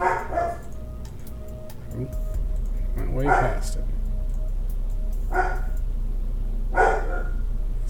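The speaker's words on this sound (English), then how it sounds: "Sorry about the dogs." Dogs bark intermittently in the background, about four separate short bursts spread out over time, while someone talks over a steady low hum.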